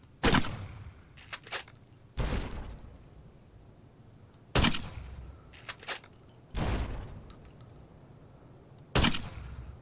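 Gunfire in the video game Fallout: New Vegas (Honest Hearts) aimed at a green gecko: six sharp, loud shots spaced a second or two apart, each with a short decaying tail over a quiet background.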